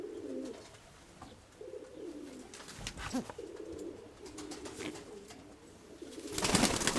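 Pigeons coo repeatedly at a dovecote in steady low warbling phrases, fairly close, with a louder burst of rustling or wing flutter near the end.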